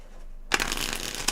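A deck of playing cards being riffle-shuffled at a table during a live coin-roll hunting session, a quick close-up flutter that starts abruptly and ends with a soft snap, no voices.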